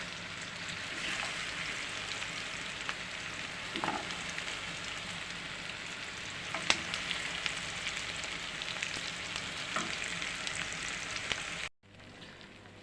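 Steady, gentle sizzling of onions frying in a pan, a continuous crackle with occasional soft pops, cutting off abruptly near the end.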